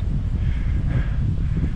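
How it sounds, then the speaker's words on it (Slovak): Strong wind buffets the microphone on an exposed mountain ridge of the Považský Inovec range, a loud continuous low roar with no speech. "Riadne tu fúka,"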